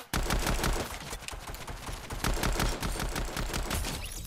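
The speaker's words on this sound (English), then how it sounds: "What gun is that? It's the ray gun." A ray gun firing in Fortnite, a rapid, even train of sharp, loud shots repeating several times a second in a steady rhythm.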